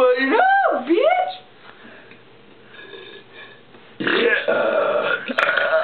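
A person lets out a series of loud, close burps, with a quieter pause in between and another long burp at the end, while other people talk and laugh nearby.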